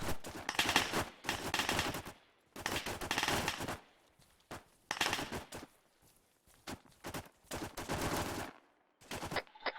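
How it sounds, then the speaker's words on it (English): Sustained bursts of automatic gunfire from a squad opening up on a patrol in a military simulation op, loud, close and rapid, in several long volleys separated by short gaps. "Opening fire."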